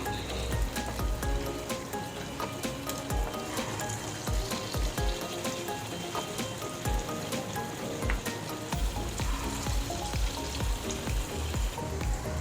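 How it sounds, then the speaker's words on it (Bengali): Chicken manchurian pieces fry in oil in a kadai over low heat, giving a continuous fine crackle and patter of small pops, close and steady throughout with no talk. "এগুলো কিন্তু খুব কম আঁচে ভাজতে হয়, বেশি আঁচে ভাজলে কিন্তু পুড়ে যাবে"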